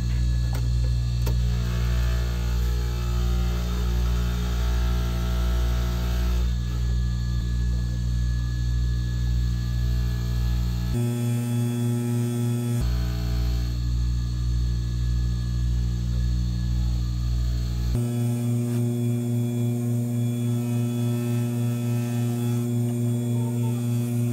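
A motorized dental polishing wheel loaded with rouge buffs a lower lingual holding arch, giving a loud, steady motor hum with a constant drone that cuts out briefly twice and resumes, no voices.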